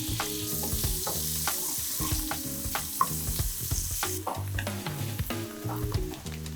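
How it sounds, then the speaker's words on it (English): Halloumi fries in a hot non-stick pan over medium heat, giving a busy, steady sizzle with frequent crackles and pops, heard up close with no voices. "Once hot, add the halloumi and fry for 3 or 4 minutes until golden and soft."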